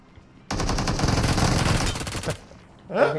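Rapid automatic gunfire bursts out loud and close in a multiplayer shooter video game, a sustained volley of about two seconds that then stops, with a voice briefly speaking afterward.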